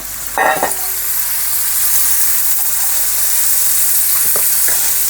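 Steady loud sizzling of food frying in hot oil, with a burst of crackling and spattering as chickpeas and curry leaves are dropped into the pan.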